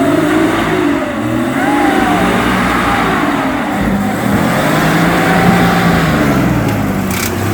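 An off-road car's engine revs loud and close as gas is applied, a continuous growling roar with rising and falling pitch sweeps.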